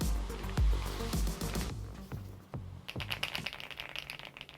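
Keystrokes clatter on a WAVE75 custom mechanical keyboard, with clusters of close, crisp taps that start dense and loud, then thin out into lighter, scattered typing.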